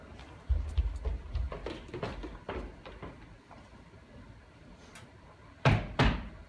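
Door handled during a middle school play as a guest arrives, with a few knocking thuds and clunks followed by a pause and then a louder bang near the end, in a room with no speech.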